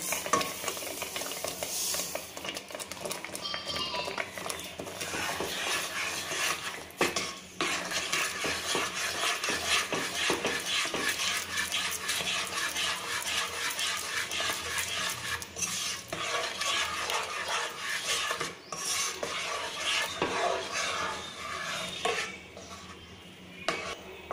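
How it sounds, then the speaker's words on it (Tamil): A ladle stirs rava kheer (semolina payasam) in a pot with a steady scraping and swishing that runs continuously, with a faint bubbling simmer under it and no talking. "கட்டிப்படாமல் கரண்டி வச்சு கொஞ்சம் உடால் கிண்டி விட்டுக்கிட்டே இருங்க"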